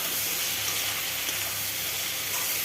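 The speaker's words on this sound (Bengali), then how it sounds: "ভালোভাবে ভাজতে হবে," Ginger paste, garlic paste and cumin powder fry in hot oil, giving a steady, dense close sizzle that holds evenly throughout with no talk.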